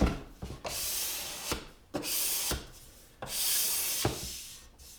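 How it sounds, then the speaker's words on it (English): Scraper pulled across the wood of acoustic guitar bracing during a guitar build, a close, dry rasping rubbed in five or six long strokes with brief pauses between them, no voices. "Just gonna scrape it a little bit and get it ready."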